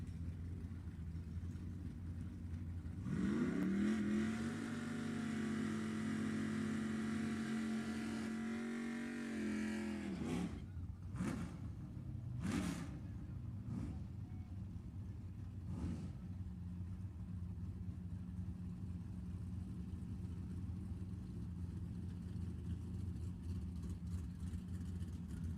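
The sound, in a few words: race cars accelerating in an ET bracket drag race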